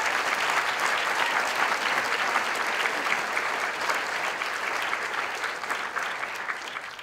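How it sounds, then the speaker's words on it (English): An audience at a book critics' awards ceremony gives a sustained round of applause, many hands clapping in a full, steady wash that tapers slightly toward the end. "Would you give them a round of applause?"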